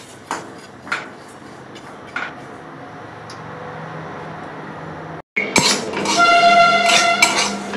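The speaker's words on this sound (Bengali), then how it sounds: "দু থেকে 3 মিনিট একটু আমি নেড়ে নেব।" Oats being stirred and roasted in a pan: a few isolated clinks and scrapes of a utensil against metal early on, then denser, louder scraping and clattering of spoon on pan toward the end, close by, with no talking.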